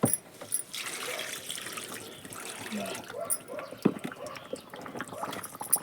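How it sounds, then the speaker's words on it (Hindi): Water is poured from a container into a dry potted eggplant plant in a sunny hillside garden, a soft steady trickle and splash close by, with a few light knocks. "अब इसमें पहले मैं पानी डालूंगी"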